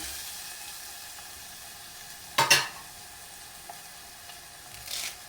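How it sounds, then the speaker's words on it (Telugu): Green chilli pieces, along with onion and ginger, hit hot oil in a pan for Andhra-style buttermilk curry, giving a short burst of sizzle and stirring that fades into a faint low crackle, with no voices. "పచ్చిమిర్చి ముక్కలు అయితే వేసేస్తున్నాను వేగనిద్దాం"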